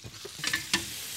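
Marinated shrimp sizzle softly in a microwave grill, a short hiss with a few crisp crackles and pops.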